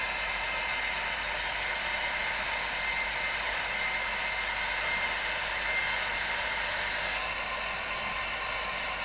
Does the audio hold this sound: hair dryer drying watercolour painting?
yes